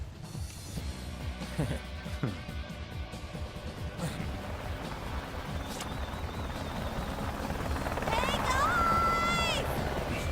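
A helicopter from the animated film Final Fantasy VII: Advent Children churns amid a busy action soundtrack of mechanical clatter, rising whines and tonal effects that grow louder toward the end.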